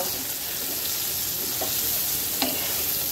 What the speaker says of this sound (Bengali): তো আমি সয়াবিনটাকে ভেজে নেই